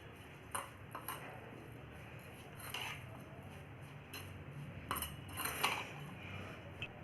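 A spoon mixes chaat ingredients with red chilli and roasted cumin in a bowl, giving faint, scattered clinks and scrapes at an irregular pace against a quiet background.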